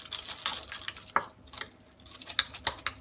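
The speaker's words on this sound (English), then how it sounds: "Maybe a teaspoon in there. Give it a stir." Spoon stirring Colman's mustard into a mixture in a bowl: soft, close scraping and clinking strokes in an irregular rhythm, fairly quiet with brief gaps between.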